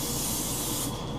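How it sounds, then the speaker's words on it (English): A paint spray gun hisses in one steady, close pass for water transfer printing, a loud continuous broadband spray with no talk over it. "Now, about 15 inches up, 12 inches up, I'm going to spray"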